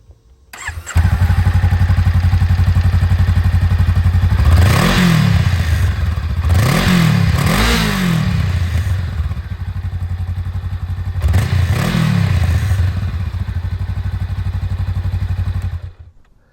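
A 2023 Honda Rebel 500 motorcycle with stock exhaust cranks and fires up nearby, then settles into a steady, throbbing idle punctuated by several brief throttle blips before shutting off.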